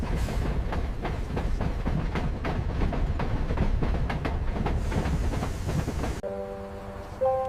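A train rolls steadily along rails at night with a dense, loud rumble and rhythmic clickety-clack from the wheels over track joints, before cutting abruptly to a quieter sustained tone near the end.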